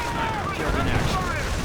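A sniper in a strategy video game sets off a mine, giving a loud, dense burst of explosive blast and rumbling battle noise, with a commentator's voice under the din.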